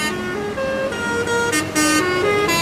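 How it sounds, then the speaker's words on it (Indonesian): A car fitted with a telolet horn plays a few melodic tooting phrases on a busy toll road during rush hour, loud and close over steady traffic rumble, with notes shifting in pitch. "mobil biasa ya, telolet ya. Bukan bis, tapi dia pakai telolet ya"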